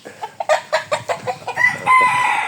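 Chickens cluck in a quick series of close, rhythmic calls, ending in a longer drawn-out crowing note.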